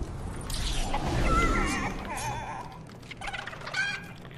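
Chicken in the Fortnite video game, clucking in a series of short, bright calls that rise and fall over a steady in-game background, fairly close and moderately loud, with no talking.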